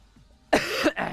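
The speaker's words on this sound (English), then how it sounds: "Sorry, a bit of a cough." One person lets out a sharp, close cough in two quick bursts after a moment of quiet, loud and alone with no talk.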